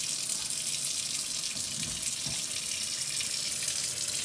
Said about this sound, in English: I'm going to fill one side of my sink up with cold water